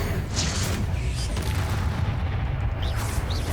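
Bombarder spell blasts destroying a spider egg sac in Hogwarts Legacy, heard as a dense, continuous rumble of booming impacts with a steady low roar throughout and no clear gaps.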